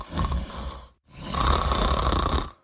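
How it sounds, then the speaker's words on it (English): Loud snoring in a sleep apnea advertisement, two heavy rasping snore breaths close up separated by a brief silent gap, with no speech. "Loud, persistent snoring and gasping for air could be signs of sleep apnea."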